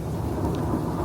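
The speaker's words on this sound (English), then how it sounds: "It's literally just been continuous thunder like this for the last like 10 minutes straight." Continuous deep rolling thunder from a severe storm, a steady heavy rumble with rain noise mixed in and no break or voice over the whole second.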